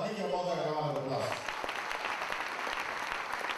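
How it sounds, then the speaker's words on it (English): An audience at a comedy show applauds, a dense wash of clapping that rises out of a speaking voice and keeps going steadily for several seconds. "if you love your mother, give your mother a round of applause"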